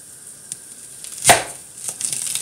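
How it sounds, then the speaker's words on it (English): A knife chopping an onion on a chopping board: one sharp, close cut stands out among a few fainter taps, with no talking. "just chopping up this onion as much as we can"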